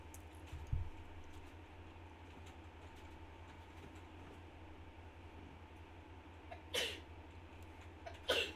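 A sneeze sounds once, fairly close but short and sharp, over a low steady hum, followed later by a couple of brief hissy breathy bursts.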